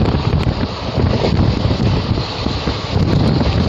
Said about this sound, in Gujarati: સમુદ્ર કિનારે પવન જોરદાર ચાલતો હોય